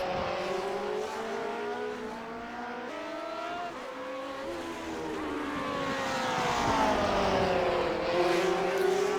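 Vintage Grand Prix Legends race cars lapping the Nürburgring Combined in the iRacing simulator, their engines droning steadily and loud, with pitch rising and falling as they shift and accelerate through corners.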